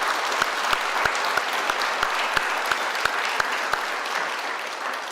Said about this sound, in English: Please, let's give a round of applause to Bill Maxwell.